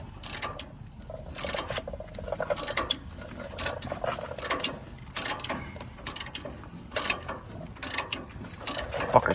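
An 8 mm socket on a breaker bar cranks a tight bolt off a 2018 Ford F-150 during a leveling kit install, giving repeated bursts of ratchet clicking in an uneven rhythm, close and steady throughout.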